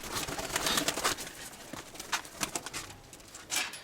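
Pigeons coo softly in a loft, with low, murmuring calls repeating under faint rustling and light knocks.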